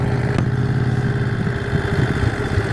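A 1951 Harley-Davidson EL Panhead motorcycle pulling away, its loud close engine pulsing with a rough, throbbing rhythm and a mechanical clatter throughout.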